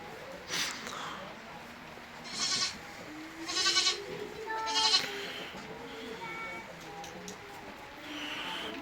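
A ewe expecting twins bleats several times at close range, with short wavering cries coming in bursts between quieter breathing and snorts, over a low farmyard background.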